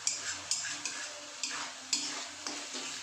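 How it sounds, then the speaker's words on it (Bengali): Spices and kasuri methi fry in oil in a pan, a bright crackling sizzle punctuated by about six regular scraping strokes of a stirring spoon, close and without speech. "সম্পূর্ণ তেলটা আরেকটু ভাজা ভাজা হয়ে যায়।"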